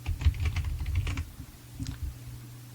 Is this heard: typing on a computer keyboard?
yes